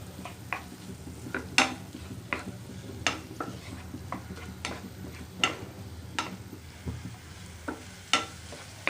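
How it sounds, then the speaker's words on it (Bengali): Vegetables being stirred in a pan with soy sauce for spring roll filling, a steady soft sizzle under repeated scraping and clinking strokes of a utensil against the pan. "আধা চা চামচ সয়া সস দেওয়ার পর এটা ভালো করে মিশিয়ে নিব"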